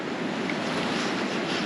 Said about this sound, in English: And this river is just raging right now.